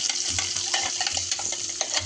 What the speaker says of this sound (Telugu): దీన్ని కొంచెం బాగా ఫ్రై చేసుకోవాలి.